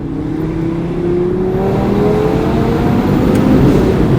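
A 500 hp Audi RS3 engine pulls hard out of a corner on a mountain road, a loud, close, steadily rising drone with rising harmonics and no talk over it.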